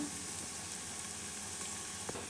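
Onions frying in oil in a kadhai for kadhi pakora, a steady soft sizzle and hiss throughout, with a small clink of a utensil near the end and no talk.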